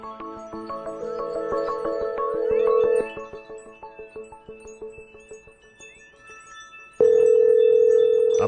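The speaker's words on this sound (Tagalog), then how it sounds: "Tatawagan natin si Miss Sas Rogando kung siya ay nasa linya na" Telephone dialing tones while placing a call to a guest on the line: a steady tone, a run of short beeps, then a loud continuous tone, heard alone with no talk over it.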